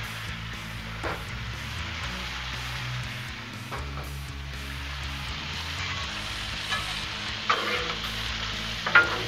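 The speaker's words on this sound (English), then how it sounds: "Let's throw down a little bit of oil, get our peppers and onions going." Peppers and onions frying in oil on a griddle alongside thick-cut bacon, a constant moderate sizzle with occasional scrapes and stirring knocks.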